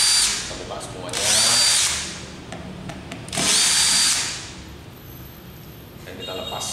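Power drill unscrewing the bolts of a sanding machine, two sustained high whirring bursts of a few seconds each separated by quiet handling noise, close and loud, with a brief restart at the end.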